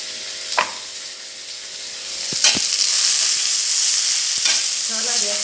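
Chopped okra with peanuts and chillies sizzles steadily in a hot pan, a continuous close frying hiss punctuated by a few scrapes and taps of a stirring spoon, with no talk.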